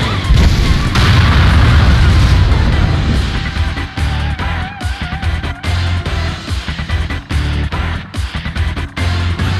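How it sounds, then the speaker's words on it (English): A big ninja-art explosion in Naruto: Clash of Ninja Revolution 3 booms with a deep, loud rumble lasting several seconds, then breaks into choppy crackling and debris-like bursts. "It's an explosion!"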